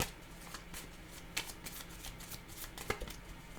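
Tarot cards drawn and shuffled by hand, a run of soft papery flicks and riffles with a few sharper snaps, close and fairly quiet, with no talking.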